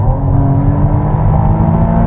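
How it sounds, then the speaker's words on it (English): McLaren Artura Spider with a hybrid V6 powertrain running steadily, a loud, close, continuous engine drone with a smooth, even hum and no pauses. "it sounds phenomenal. That hybrid V6 powertrain."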